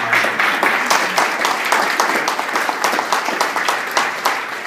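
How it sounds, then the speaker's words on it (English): A room full of people gives Senator Dave Marsden a round of applause at an income inequality panel, steady dense clapping that stays loud throughout. "a big round of applause for Senator Dave Marsden"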